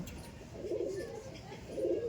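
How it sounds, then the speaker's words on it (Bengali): Two male pigeons released from a loft give soft, low cooing calls in short bursts, close by, with faint background noise and a little talk nearby. "এই যে পায়রা দুটো ছিল 2 পিস নর পায়রা।"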